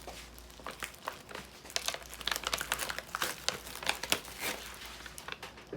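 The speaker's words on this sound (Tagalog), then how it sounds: "Sirain natin yung tape." Tape torn off party decorations for a Pabitin setup makes continuous crinkling and ripping, irregular crackling bursts close by and fairly quiet, lasting several seconds without speech.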